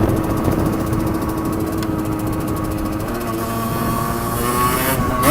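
A Rieju RRX motorcycle engine buzzes nearby during wheelie practice, its revs rising and falling in a steady high-pitched drone.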